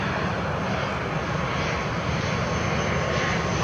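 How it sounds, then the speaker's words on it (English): An airplane landing in the evening, heard as a steady, broad engine roar from a fixed-wing aircraft, fairly loud and constant throughout without talk. "There's a plane landing anyway."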